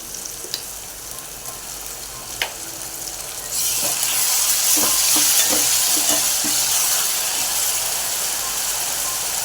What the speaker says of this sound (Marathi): छान परतून घेऊन तेल सुटेपर्यंत